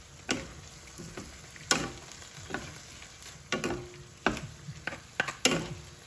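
Pork, radish and shrimp frying in a pan, with a steady sizzle broken by repeated scraping strokes of a stirring utensil at an irregular rhythm, close and moderately loud.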